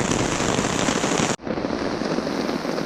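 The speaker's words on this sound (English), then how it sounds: "The rain hasn't let up. It's getting harder." Heavy rain pelts a tarp at a lakeside campsite on a canoe trip, a dense, loud, continuous patter that cuts out for an instant midway and then resumes.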